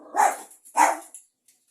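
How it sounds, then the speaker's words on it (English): A dog barks twice in quick succession, loud and close, with sharp bursts and a brief gap between them, heard indoors during a wool carding session. "sorry, noisy dog"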